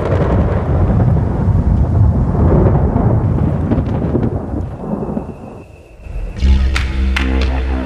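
Loud thunder rumbles through a lightning storm in northern Australia, a long rolling roar with rain that fades briefly and then returns as a heavy, close crack.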